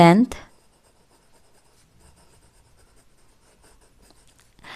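Chalk or marker scratching across a classroom board as a maths teacher writes, light intermittent strokes after a brief burst of speech at the start.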